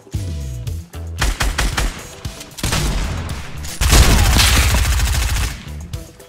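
Loud, dense gunfire in a shooter game: bursts of automatic fire and single cracks overlap and build into a sustained roaring volley near the end, with no talking.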